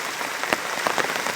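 Heavy rain pours steadily outdoors as a dense, even hiss with scattered louder drops, with no voices.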